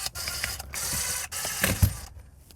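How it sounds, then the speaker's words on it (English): Screws being undone from a Porsche 968 center console during interior teardown, giving a run of close metallic clicks and ratcheting mechanism sounds with a few sharper knocks, no speech. "So this is the part where I just start undoing screws and we see what makes it move."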